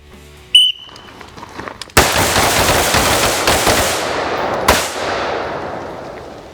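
Gunfire on a shooting range during a threat engagement drill: a brief sharp crack, then a loud, dense burst of rapid shots about three seconds long, a final shot, and a fading echo.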